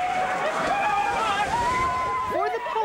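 People plunge and splash into 40-degree Lake George water in t-shirts, shorts and swimsuits, the sloshing water steady throughout beneath a crowd's babble and a talking voice.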